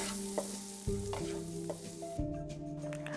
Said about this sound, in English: You're going to saute all this for a couple of minutes.